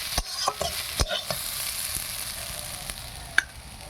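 Cabbage pakoras fry in hot oil with a constant close sizzle, punctuated by a few sharp scraping taps from stirring.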